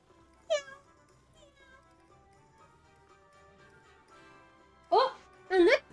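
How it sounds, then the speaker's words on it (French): A cat in Hogwarts Legacy meows once clearly, then twice more in quick, loud, close succession near the end, with quiet ambience and faint chatter in between. "Ah, un chat. Oh, un chat."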